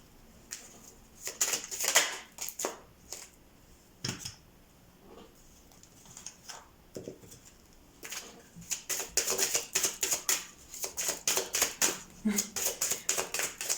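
Tarot cards are shuffled in quick irregular bursts of crisp riffling and slapping. The bursts grow into a fast, steady run of snaps near the end, with a voice speaking briefly.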